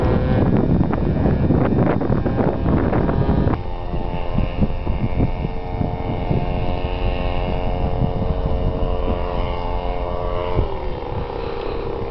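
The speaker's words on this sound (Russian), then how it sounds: "Ветер опять какой. Ни одного дня без ветра." Strong wind buffets the microphone with heavy, rumbling gusts throughout, easing slightly after the first few seconds but never letting up.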